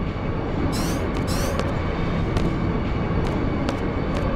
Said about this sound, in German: Ich liebe Züge.